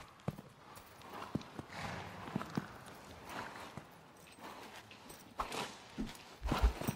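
Horse's hooves clip-clopping and shuffling on the ground in an irregular rhythm, with soft thuds and movement, moderately close and fairly quiet.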